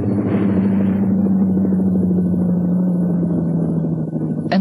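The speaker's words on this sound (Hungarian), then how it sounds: "A Sikorsky Sea King a 60-as évek eleje óta különböző variációkban repül, kutató és mentő feladatokat hajt végre." A Sikorsky Sea King search-and-rescue helicopter flies past with a steady low rotor drone and a dense engine rumble, loud and continuous throughout.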